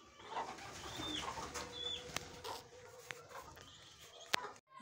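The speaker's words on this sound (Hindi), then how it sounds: "ये दो गोले कबूतर आए हैं जी हमारे पास" Gola pigeons coo softly in a yard where chickens are kept, a few low calls over a steady outdoor background broken by occasional sharp knocks and faint chirps.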